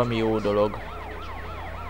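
A fire truck siren in Grand Theft Auto San Andreas wails in a steady, rising-and-falling sweep of repeated cycles. A voice speaks briefly over the start, then the siren continues alone at moderate loudness.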